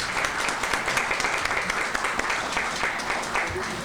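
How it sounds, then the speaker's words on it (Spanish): Audience applause at the closing ceremony of an academic conference, a dense steady patter of many hands clapping at an even volume for a few seconds. "y a quien les pido un aplauso, por favor."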